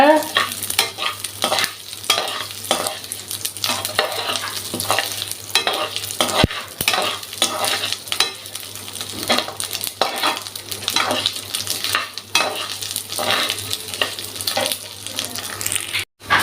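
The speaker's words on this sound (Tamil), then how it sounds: "அரை கப் ஜவ்வரிசிங்க சின்னது நல்லா வறுத்துக்கோங்க பொரிய பொரியிற அளவுக்கு வறுக்கணுங்க" Small sago pearls dry-roasting in a pan until they puff, stirred continuously: repeated scraping strokes and crackling sizzle, close and loud, with no talk.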